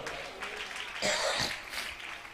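A church congregation claps hands at a Tamil Christian service, a short, moderately loud burst of clapping with a cough-like sound in the middle.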